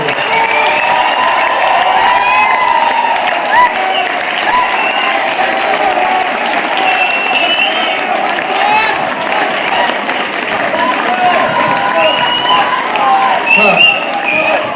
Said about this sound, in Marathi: त्यांच्यासाठी उभं राहून टाळ्या वाजवल्या पाहिजे.